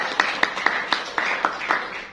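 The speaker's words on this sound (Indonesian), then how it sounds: "Tepuk tangan buat Tuhan." A church congregation clapping hands in praise during a sermon, a quick rhythmic series of about nine sharp claps, moderately close with a faint murmur of voices.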